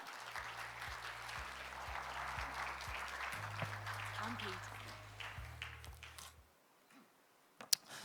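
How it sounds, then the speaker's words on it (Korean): Conference audience applauding as a speaker walks on stage, a steady dense wash of clapping that fades out near the end, with a low musical hum underneath and a sharp knock after the applause dies. "무대로 올라오실 때 다시 한번 큰 박수 부탁드립니다."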